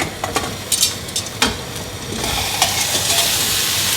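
Walmart Marketside Wagyu steak sizzling in a hot pan as it is flipped, a steady close hiss broken by a few sharp scrapes and utensil taps.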